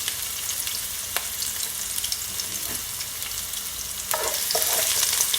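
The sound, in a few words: sautéing ingredients for Jamaican steamed fish and okra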